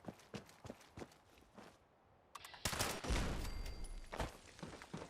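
Turret gunfire in the video game Fallout 76, with rapid sharp shots first, a short lull, then a denser burst of loud firing and clatter, alone without talk.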